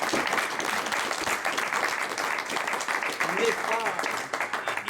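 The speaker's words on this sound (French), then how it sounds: "on peut l'applaudir très fort" A seated audience at a talk applauds warmly, dense continuous clapping with a few voices mixed in, moderately loud and even throughout.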